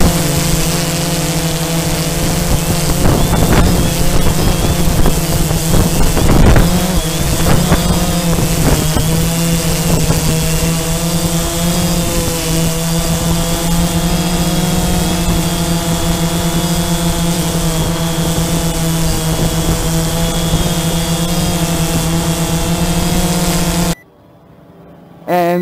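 Bayangtoys X16 GPS quadcopter drone with modifications, flying back toward its helipad takeoff spot, giving a continuous loud buzzing whine with steady pitch, nearby, with wind buffeting early on and cutting out abruptly near the end.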